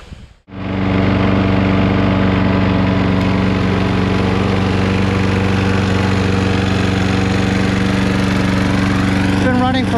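A Troy-Bilt 21-inch self-propelled lawn mower with a Briggs 6.75 Quantum engine starts up after a carburetor cleaning and runs steadily, a loud, close, even droning hum.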